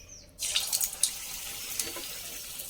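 A hand is dipped and wetted in a bowl of water while shaping undam pori dough, giving a short quiet splash and sloshing after a silent start, followed by soft trickling and dripping at close range.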